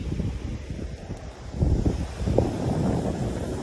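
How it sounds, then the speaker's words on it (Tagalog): Steady wind from a typhoon on a beach in Japan blowing and buffeting close to the microphone, a low rumbling roar that swells in gusts, with no voices. "Maririnig niyo po yung ano ng hangin."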